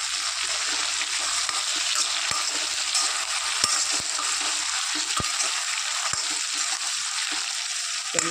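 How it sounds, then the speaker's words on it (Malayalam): Okra pickle with sesame oil simmers in a pan, giving a dense continuous bubbling sizzle with occasional scraping knocks as it is stirred, close and fairly loud with no voices. "ഇതെല്ലാം കൂടെ നന്നായിട്ടൊന്ന് തിളച്ച് വരട്ടെ. സമയത്തേക്ക് നമുക്കിതൊന്ന് ഇളക്കി കൊടുക്കാം."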